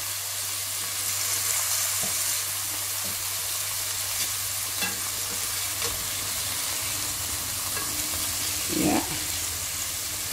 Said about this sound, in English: whilst this is searing